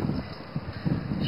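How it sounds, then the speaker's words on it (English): Strong wind blows outdoors and buffets the microphone with a steady low rumble and gusty roar for the whole moment, with no one talking. "Oh, the wind."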